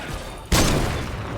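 Gunfire from the Grandpa defender in Fortnite Save The World: a sudden loud burst at about the half-second mark, then a sustained roar of shooting that stays loud to the end.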